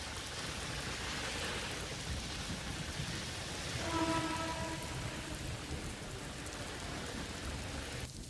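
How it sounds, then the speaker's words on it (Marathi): Steady heavy monsoon rain in Navi Mumbai pours down without a break, a dense hiss of drops drumming on surfaces from start to finish. "आज सकाळपासून पुन्हा पावसाला सुरुवात झालेली आहे"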